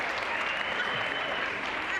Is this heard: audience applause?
yes